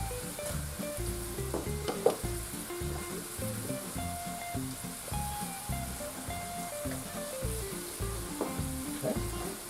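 Peppers and garlic sizzling and frying in a hot pan for shrimp pasta, a steady crackling hiss with occasional stirring scrapes, close and continuous with no talk.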